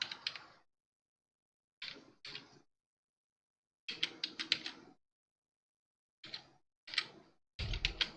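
Keys tapped on a computer keyboard in short separate bursts of clicks with pauses between them, close and fairly quiet, with no talking.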